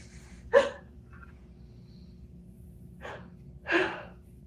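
A man, a CPAP user, breathes heavily close by: a sharp gasping intake, then quieter pauses, followed by two more audible breaths with steady background hum between them.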